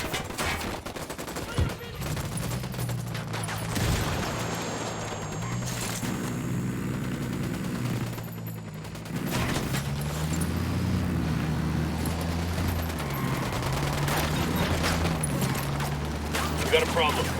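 Gunfire in the Ghost Recon Wildlands video game: repeated bursts and rattling volleys of shots, moderately distant, running through a busy battle mix with low rumbling and occasional voices.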